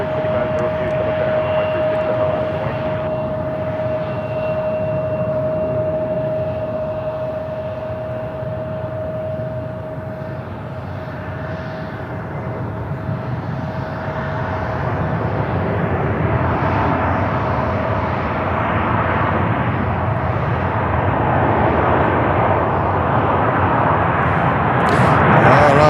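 Jet airliner rolling out on the runway at Charlotte airport after landing, a long broad roar of reverse thrust that swells louder toward the end, with a steady whine running through the early part.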